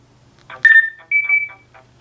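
Sprint Direct Connect push-to-talk phone connecting to another handset, giving a short chirp and sustained feedback tones between two phones held close together, moderately loud with no talk.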